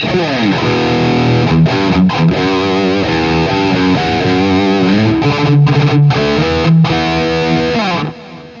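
A heavily distorted Schecter Banshee 6 FR electric guitar through an ENGL 530 preamp and 920 power amp, miked with an SM57, plays a loud riff with sustained, crunchy tones and a few brief pauses, cutting off near the end.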